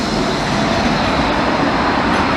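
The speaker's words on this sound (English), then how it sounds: "There goes the tram." A tram rolling past along a seaside promenade, a steady, loud, broadband rumble with no breaks, heard close and alone.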